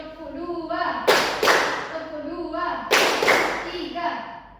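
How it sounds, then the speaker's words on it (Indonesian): A class of children claps in unison to a teacher's counting, two bursts of loud group claps separated by the teacher's chanting voice in a classroom. "Tepuk satu, tepuk dua,"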